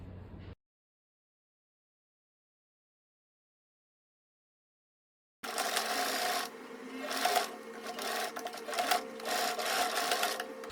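A sewing machine stitches a strapless bandeau mini dress seam with a 1 cm allowance, a steady close whirring run that surges and eases after a long silent pause, with no talking.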